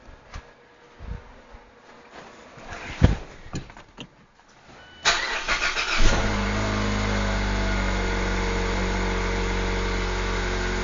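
An engine on someone's mom's car cranks briefly and catches, then roars up and settles into a loud, steady running drone after a few seconds of quiet clicks and handling noises, with no talking.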